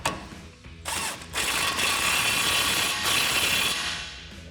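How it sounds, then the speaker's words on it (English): A ratchet with a 21mm socket tightens a nut on a Ford F-150 suspension lift install, rapid close clicking in short bursts that settle into a sustained run of ratcheting. "we'll tighten that down with a 21mm socket"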